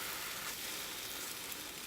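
French toast frying in a pan, a steady, moderately faint sizzle of bread in hot fat that holds evenly throughout with no voices.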